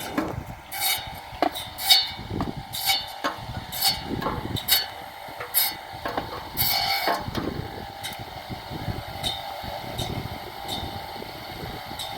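A tapioca stem cutting machine on a farm grinds and rasps continuously, with repeated sharp cracking chops as stems are fed through, busy and close.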